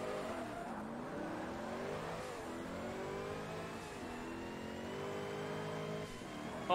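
A Corvette race car in Forza Motorsport, on Sunset Peninsula Speedway, roars steadily at high revs, its engine pitch climbing and dropping through repeated gear changes, loud and continuous with no voices.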